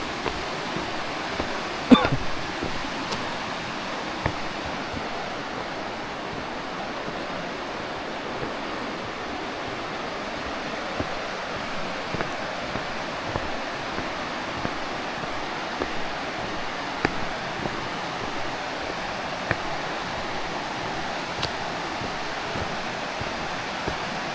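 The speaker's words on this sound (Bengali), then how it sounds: "ওই যে একটুখানি দেখা যাচ্ছে ঝর্ণাটা।" Steady broadband rush of the Alkudar waterfall in a dense hill forest, a continuous even roar heard from some distance with faint wind, no voices.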